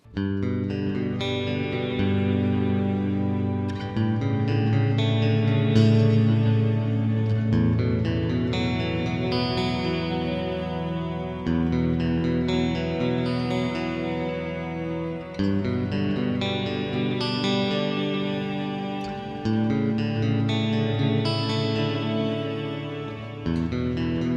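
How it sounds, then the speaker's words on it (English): Clean electric guitar chords through a Fractal FM3 MKII Turbo pitch reverb ring out with a shimmering, pitch-shifted reverb tail, sustained and lush throughout, no voices. "sparkly clean tone sort of thing, with one of the new pitch reverb algorithms"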